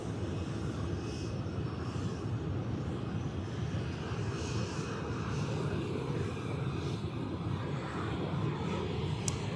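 Aircraft at Zurich airport during a freezing rush hour, a steady broadband engine roar that holds at an even loudness throughout, without any voices.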